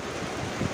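Steady wind roaring across the microphone, a continuous low rumble with a brief stronger gust near the end.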